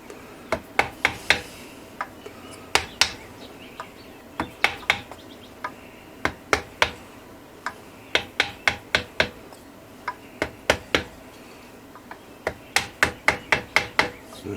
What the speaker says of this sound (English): take a small piece of wood and a hammer and lightly tap it